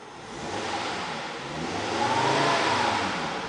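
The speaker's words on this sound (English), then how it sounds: "We'll rev the engine." The 2.4 liter 4-cylinder engine of a 2006 Volvo S40 revs up from idle, swelling into a steady rising hum near the car before easing back slightly, with no talk over it.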